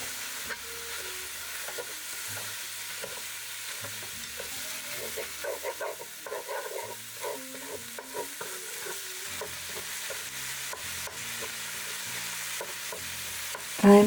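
Ground pork frying in a pan and being broken apart, a continuous close sizzle with repeated scraping and tapping of a utensil against the pan.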